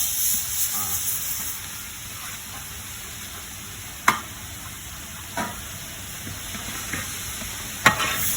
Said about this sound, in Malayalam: സവാള ഇട്ട് നല്ലോണം മിക്സ് ചെയ്യണം